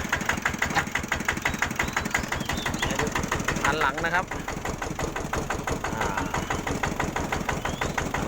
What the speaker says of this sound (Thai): เสียงเครื่องนิ่มครับ ปกติเลย